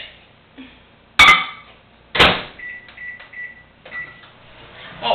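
A microwave oven heating a creme brulee mixture in a mug, with faint clatter and a couple of sharp knocks, followed by a few short electronic beeps from the oven's controls.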